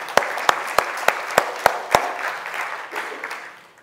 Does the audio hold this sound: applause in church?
yes